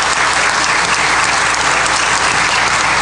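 Dense, steady crowd applause fills the space for a high school audience cheering its baseball team and district-champion softball team, loud and continuous with no gaps.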